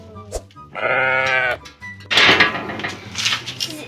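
Goat kids bleating in a series of calls, one long wavering bleat up close followed by fainter overlapping cries, with brief rustling and knocks in between; no speech over them.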